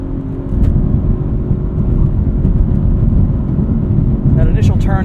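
Engine of a 2023 Audi RS5 Competition Coupe while driving, a steady loud drone and road roar throughout, with a brief higher-pitched burst near the end.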